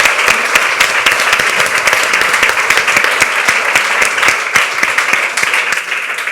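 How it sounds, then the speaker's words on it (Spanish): A live audience applauds steadily for several seconds at a women's health presentation, dense clapping loud and close throughout with no voices over it. "Un aplauso para todos ellos, por favor."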